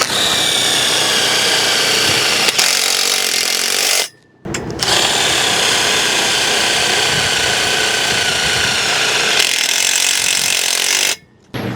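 A power drill drives tek screws through the swaged joint of 1 5/8 inch steel pipe during assembly of a poultry-house disinfectant delivery system, whirring loudly and steadily in two long bursts with a short stop between.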